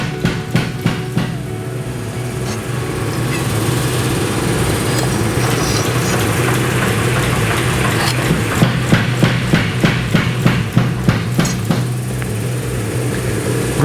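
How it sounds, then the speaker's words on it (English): A metal wakizashi blade being ground, a steady loud abrasive rasp running throughout, broken by rhythmic sharp knocks and clatters near the start and again in the second half. "So I will grind this here first."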